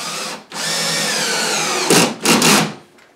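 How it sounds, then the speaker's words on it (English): A power drill drives screws through a board into wall studs while kitchen cabinets are installed: one long steady whir, then two short high bursts as the screw seats, close and loud. "We're going to get these other screws screwed in just to hold the board."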